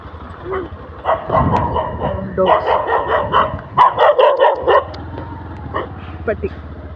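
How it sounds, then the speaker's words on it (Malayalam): A dog barks in repeated bursts at fairly close range, with yips and whimpering between them, outdoors by a flooded riverside temple grounds after rain, while people talk over it. "അത് പ്രാന്ത് പിടിച്ച പട്ടിയാ."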